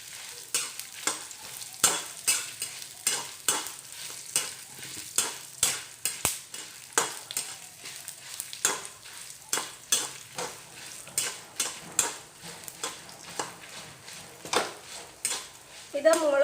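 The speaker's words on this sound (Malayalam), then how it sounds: "അതൊന്ന് ചൂടായി വരുമ്പോൾ നമ്മൾ അതിലേക്ക് മല്ലി ഇടുക" Coriander seeds stirred and roasting in a hot pan for a Palakkad horse gram tamarind curry, with steady dry rattling and scraping strokes of a spoon against the pan, close and rhythmic throughout.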